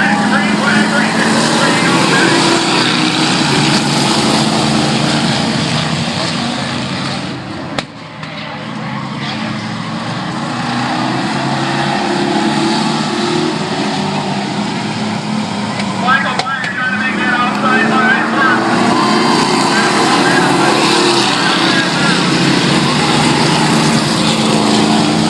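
Racing truck engines drone steadily through green flag racing at a classic truck event, a continuous loud roar with a brief dip midway, under a commentator's running talk.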